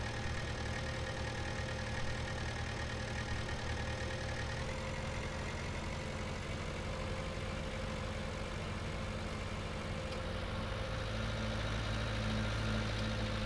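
A tractor engine in Farming Simulator 19 idles steadily with a low, continuous drone and a faint tonal hum, unchanging throughout and without talk.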